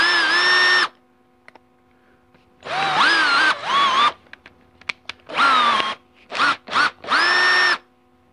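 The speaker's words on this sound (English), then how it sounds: "The best way to do that is to chuck this thing in a drill." Several bursts of a power drill spinning a 700R4 transmission's 2-4 band servo part during grinding, each rising in pitch as it spins up, separated by short quiet pauses and small clicks.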